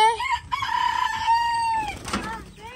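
Hungry chickens on a farm cluck and crow loudly and close by, a rooster's drawn-out call rising over steady fowl chatter with no pauses.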